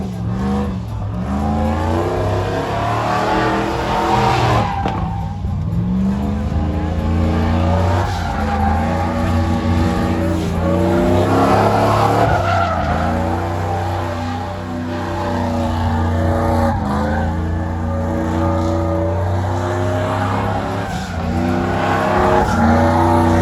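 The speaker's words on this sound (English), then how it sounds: "No, you hear that Pro Charger though?" A ProCharger-supercharged truck at the Corridos y Trokas 2023 truck show roars loudly as it revs up and down again and again, with tires squealing as it skids, over a noisy crowd.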